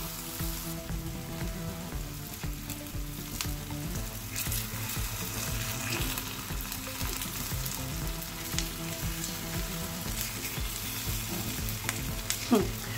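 Gnomi, small millet cakes, cook in a pan with a constant loud sizzle of frying oil, broken by occasional clinks and scrapes over about thirteen seconds.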